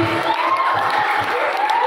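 Students in a school hall at a junior high student council candidate debate applaud three candidates with loud, steady clapping and some cheering throughout.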